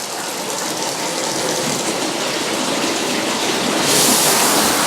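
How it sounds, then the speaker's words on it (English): A bathroom shower runs during a home buyer's final walk-through, giving a steady, close hiss of spraying water that grows slightly brighter and louder near the end. "Make sure the shower's going."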